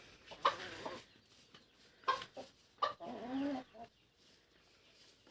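Chickens cluck in several short bursts with pauses between, close by, including a rooster's throaty calls among the hens.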